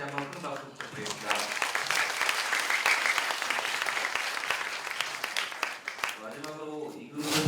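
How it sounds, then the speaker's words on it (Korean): Sustained audience applause at a youth debate final on Korean reunification, a dense wash of many hands clapping throughout, with a voice speaking over the start and end. "다시 한번 큰 박수 부탁드리겠습니다."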